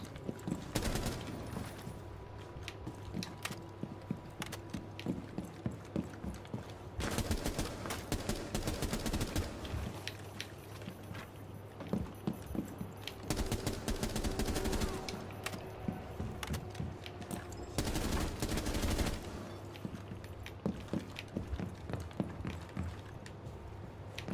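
Rifle fire in Rainbow Six Siege rattles in repeated bursts and controlled single shots, loud and close, separated by short pauses and clicks of gameplay over about twenty-four seconds.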